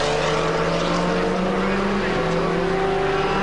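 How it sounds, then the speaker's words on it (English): Two Ferrari GT race cars battle at Silverstone during the 2002 FIA GT round, a dense continuous engine roar with overlapping revving notes, loud and close under live commentary. "look at this, the two Ferraris chopping and changing position."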